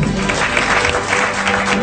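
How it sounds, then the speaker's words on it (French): A theatre audience applauds at a comedy show, a dense, loud, steady wash of clapping that fills the whole short moment with no break. "Merci d'applaudir Marion Cotillard."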